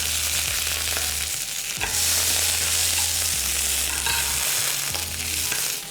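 Zucchini slices flipped over in a hot frying pan on an induction cooktop, a loud continuous sizzle broken by several scraping turns of a utensil, with a low electrical hum beneath.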